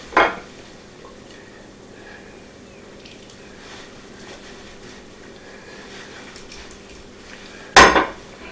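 A leg of lamb rubbed with olive oil and rosemary is flipped over in a pan. A sharp metal clatter opens the moment and a second, louder clatter lands near the end, with quiet kitchen ambience between and no talk.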